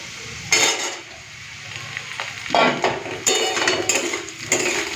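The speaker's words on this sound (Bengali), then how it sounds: "আলুটা একটুখানি লাল লাল ভাজা হলে তারপরে বেগুন দেবো" Potato and eggplant fry in a pan with oil, sizzling steadily at close range while bursts of stirring and utensils scraping the pan break in every second or so.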